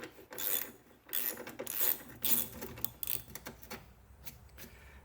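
Ratchet turning T27 Torx headlight screws out of a Saab, a series of close, uneven clicking and rasping bursts, some loud, others softer, with brief pauses between them.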